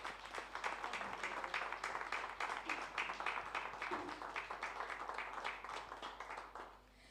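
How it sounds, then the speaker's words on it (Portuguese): Audience applause fills a hall at the presentation of the 22nd Cerveira International Art Biennial after a live musical performance. The dense, steady clapping is loud and sustained throughout, then thins out at the very end. "Uma salva de palmas, por favor."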